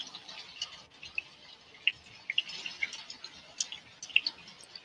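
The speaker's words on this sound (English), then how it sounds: "The faucet dripping into like an empty sink or like an empty bathroom." A water tap drips into an empty sink, with scattered, irregular drops that sound faint and close against a quiet background hiss.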